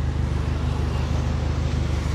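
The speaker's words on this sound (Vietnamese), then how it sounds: "bô nổ cực kỳ đầm hố luôn," A Japanese-import two-door Mitsubishi car with a dual exhaust idles loud and close, its deep, steady exhaust rumble continuous throughout with no one speaking.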